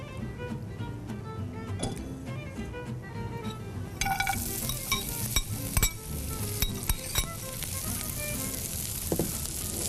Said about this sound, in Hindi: बहुत थोड़ा सा कुकिंग ऑयल, गाजर और किशमिश, इनको मैं फ्राई करूँगी।